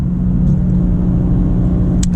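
A 2025 BMW M2 with the automatic transmission accelerating, giving a close, loud and steady low engine rumble that holds throughout, with one brief sharp tick near the end.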